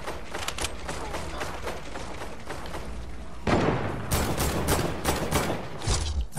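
Gunfire in a Fortnite duo match, including sniper shots: dense rapid bursts of shots run throughout, growing louder and heavier about halfway through, with no talk over them.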